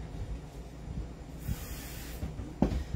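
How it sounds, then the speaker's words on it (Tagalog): Lubricant is sprayed onto a JWC Combat Master airsoft gun, producing faint hissing bursts with small handling knocks and clicks, quiet and close. "napansin mo sir, medyo heavy yung pag-spray ko, madami"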